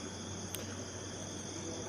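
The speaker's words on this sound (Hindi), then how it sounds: "तालाब के किनारे झींगुरों की आवाज़" Steady, dense chirping of crickets at night beside a pond, a continuous shrill wash of insect calls with no pauses, fairly loud and alone.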